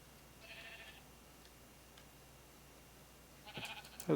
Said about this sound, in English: Hello, sheep.